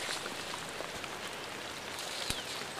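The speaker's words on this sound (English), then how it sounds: "Sorry about all the raindrops on the lens all the time." Steady rain falls in a Rocky Mountain forest, a dense even hiss of drops on leaves, with a few sharper taps from drops striking close by.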